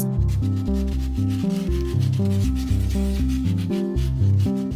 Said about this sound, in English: I finally applied the wood filler to the dome, let it dry, and sanded it smooth